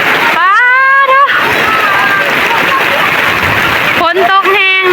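Steady, loud rain falls and splashes in a continuous hiss, while someone talks over it at the start and end.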